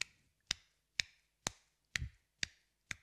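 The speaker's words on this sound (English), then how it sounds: "The third hack, which I really like, no sticks at all, is just one hand clapping." One hand claps alone as a drum double-stroke practice drill, giving seven sharp, close snaps at a steady rhythm about half a second apart, with no talking.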